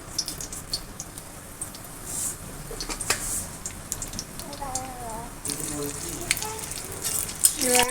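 A slit green chili and black cumin fry in mustard oil, giving a steady sizzling hiss with small crackles and pops, while someone talks over the cooking.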